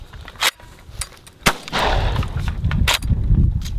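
A UTS-15 pump shotgun fires its last round with one sharp, loud, close blast, followed by rumbling and mechanical clatter, with a few other sharp transients around it and no talking.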